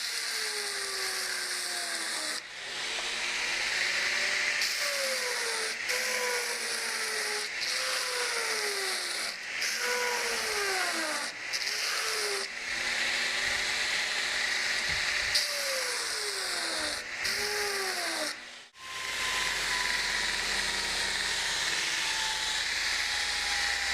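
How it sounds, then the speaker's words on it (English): A Burr King belt grinder profiles a knife blade in a long run of repeated passes, each one a rising and falling grinding whine over the steady roar of the running belt, close and loud with no talk. "Okay, now I'm going to profile the blade."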